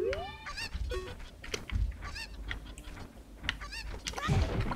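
Chicken clucking in the video game The Legend of Zelda: Ocarina of Time, a series of squawky bird calls mixed with game music and effects, fairly loud and busy, no voice over it.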